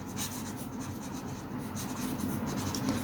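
Marker or chalk writing on a classroom board during a Class 10 mathematics lesson, a steady scratchy rubbing that runs continuously for about three seconds with no talk over it.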